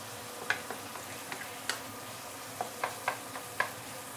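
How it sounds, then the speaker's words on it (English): Minced meat stir fried to brown in a pan for potato stew, with quiet scattered ticks and spatula scrapes over a faint sizzle, close and soft, no talking. "So we are going to stir fry this to brown, saute our minced meat here to brown it a little bit"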